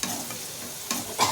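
Chopped onions sauté in a hot pan for a prawn thokku, a brief burst of sizzling with scraping stirs that swell near the end.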